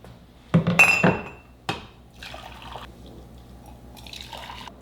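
Preheating water is tipped out of a glass Chemex coffee maker: a few sharp glassy clinks and a splashing pour come first, then a softer trickle and light dripping in a quiet kitchen.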